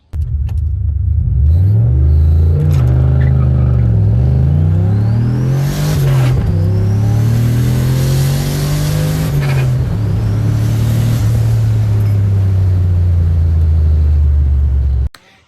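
A Ford Mustang fitted with a GT45 turbo launches on a drag run. The engine roars loudly and revs climb through several gear changes, sweeping up and dropping repeatedly before the power cuts off abruptly at the end.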